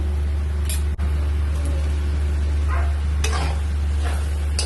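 Potatoes go into hot oil and are stir-fried for a small potato and soybean curry, a steady sizzle over a low hum with a few scraping stirs of the spoon against the pan.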